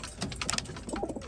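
A homing pigeon on a rooftop coos softly in a few short, low bursts, heard close but faint against quiet surroundings.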